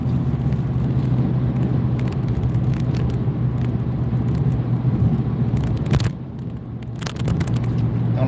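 A car drives on the highway toward Seattle, giving a steady, loud road rumble and tyre roar from inside the cabin, with brief wind bursts and a momentary dip near the end.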